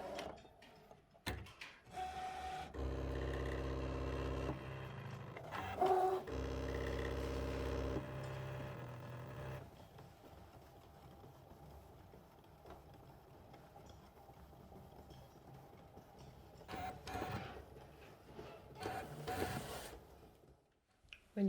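A Brother ScanNCut SDX1200 cutting machine slices through vinyl with a steady mechanical whir and rhythmic ticking of the moving carriage. It is loudest early on, then settles into a quieter, continuous drone with occasional clicks, and no one speaks.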